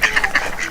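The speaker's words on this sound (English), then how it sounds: "Are they quacking?" Ducks quack in a quick run of short, nasal calls, close and fairly loud, in a Hawaiian garden setting.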